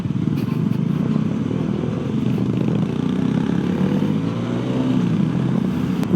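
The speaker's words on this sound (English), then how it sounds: "Thank God we are on motorcycles." A Bajaj Dominar motorcycle engine rumbles steadily while riding a rough, damaged road in Nepal, with rattling and clatter over uneven ground throughout.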